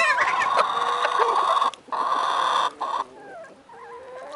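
Chickens and a rooster cluck on a farm, with several sharp calls and crowing-like squawks close by, broken by a couple of brief pauses.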